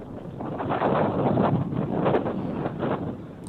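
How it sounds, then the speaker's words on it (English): Wind blowing high up on a super high tower, a steady, rushing gust buffeting the microphone with swelling and easing pulses, fairly faint and alone without voices. "And you can hear the wind."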